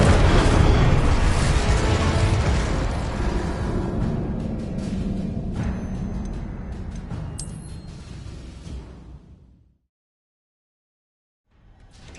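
A Confringo blasting spell erupts in Hogwarts Legacy, a loud booming explosion that rumbles and slowly fades over several seconds before cutting to silence.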